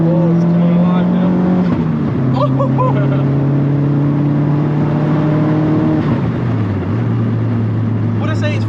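An old-school Opel Zafira GSI engine drones loud and close, its pitch climbing steadily through the revs before dropping sharply at each gear change, repeated twice.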